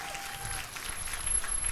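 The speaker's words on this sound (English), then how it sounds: "How about a round of applause for that?" An audience at an MLK banquet applauds, a dense wash of many hands clapping steadily and swelling slightly, heard from within the room.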